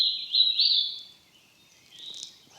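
A distant bird calls across open spring woods in Pennsylvania during turkey season, a couple of thin high chirping phrases, faint and far off, separated by a quiet pause.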